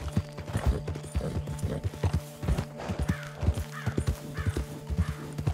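Horse hooves clip-clop steadily in Red Dead Online, a tired horse plodding at an uneven walk, with near, distinct hoof strikes over a faint, steady tonal game backdrop and a hint of a whinny.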